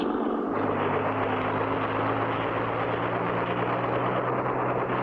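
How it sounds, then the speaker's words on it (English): A steady, loud droning engine with a constant low hum, like a helicopter or propeller aircraft flying close by, with no break or talk. "We're flying! Just like a helicopter, Spinner."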